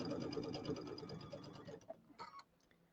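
A sewing machine stitches in a quick rhythmic patter at low volume, then slows and stops, leaving a few faint clicks and handling noises.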